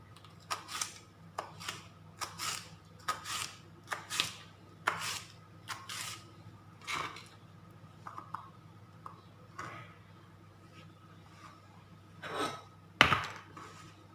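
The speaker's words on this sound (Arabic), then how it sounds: "وغنبقى نقطعها على هذا الشكل كما كتشوف" A knife cuts ingredients for a tuna and turkey ham pizza, giving a steady series of short, sharp chopping taps with pauses and a louder knock near the end. There is no talking.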